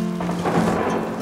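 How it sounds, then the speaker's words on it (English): Rain falls steadily at a canyon campsite in Canyonlands while a low thunder rumble rolls underneath, loud and close with a dense patter over a deep boom. "This is starting to rain."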